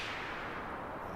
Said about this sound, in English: what we've got is a noise source going into a low-pass filter